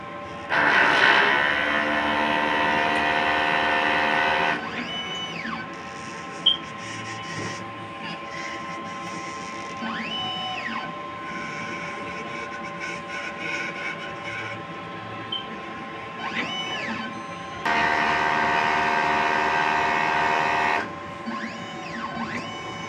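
Inkjet printer running a print head cleaning cycle, a steady mechanical whir with motor tones rising and falling and a louder grinding burst at the start and again near the end, close and continuous with no talking.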